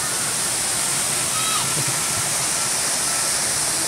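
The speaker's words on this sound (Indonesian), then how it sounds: "Ini air terjun paling atas dan masih ada lagi di atasnya kurang lebih 500 meter." The Kuku Belantak waterfall in Kendawangan, West Kalimantan, gives a constant roar of falling water heard up close. The dense wash of sound stays unbroken throughout.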